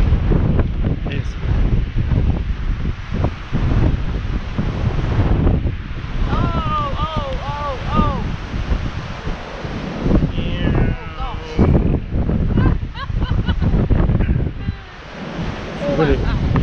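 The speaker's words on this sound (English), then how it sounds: "Oh, this wind's chilly." Chilly wind buffeting the microphone on the English coast, a loud, steady roar with surf mixed in and a person talking over it.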